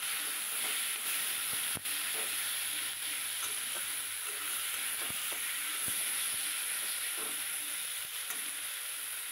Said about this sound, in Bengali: এবার নেড়ে নেব ভালো করে।